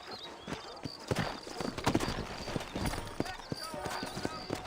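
Horse hooves clip-clop steadily in the Red Dead Redemption video game, a brisk rhythmic series of fairly quiet hoofbeats with a brief whinny, under a character's spoken dialogue.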